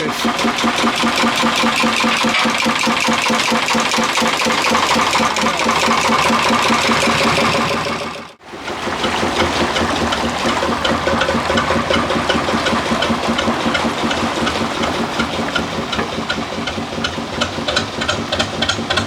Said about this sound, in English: Listen to that engine. Lovely triple cylinder Lister.